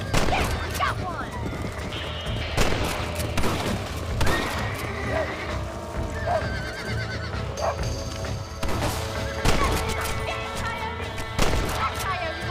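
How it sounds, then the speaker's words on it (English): Repeated sharp gunshots ring out while coyotes are shot in Red Dead Redemption to protect chickens on a ranch, spaced bursts over a busy game mix with a horse whinnying and voices in the background. "Shoot them before they get to the animals!"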